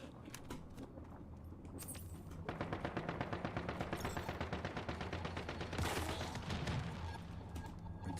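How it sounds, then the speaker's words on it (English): An automated turret in Once Human fires rapid, evenly spaced bursts, a long rattling run of gunfire that starts after a few scattered shots and keeps going to the end, at moderate distance with no talking. "Somebody's turret."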